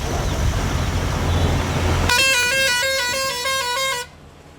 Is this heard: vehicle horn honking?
yes